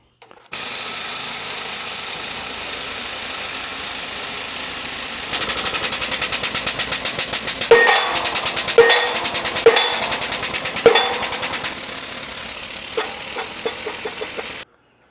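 A press forces an old kingpin out of a Volkswagen front axle: a steady mechanical whirring drone, then a denser, louder stretch of rapid rattling and sharp clanks, with no voices.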